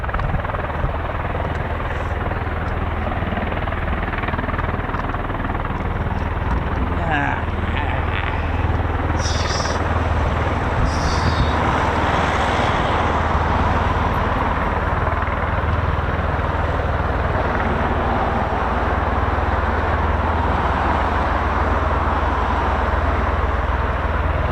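A CV-22 Osprey tiltrotor taxis at an RAF airfield, its rotors producing a loud, unbroken, throbbing roar with a deep low rumble, heard up close, while people talk beneath it.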